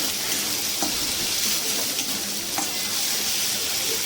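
Ginger-garlic paste sizzling in a pan for a potato, pointed gourd and soya chunk curry, stirred with repeated scraping strokes over a constant loud frying hiss, no voices.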